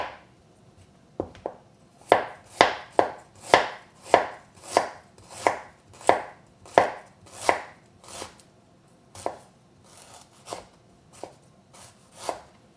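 Knife chopping ginger into thin threads on a cutting board, a series of about twenty crisp close knocks in a steady, slightly uneven rhythm that slows and softens toward the end.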